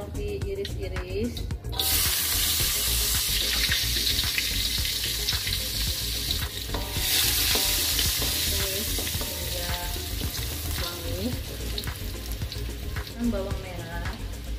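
Sliced garlic sizzles in hot oil in a pan, a loud, continuous, close frying hiss with occasional stirring clinks, and a voice murmurs faintly underneath.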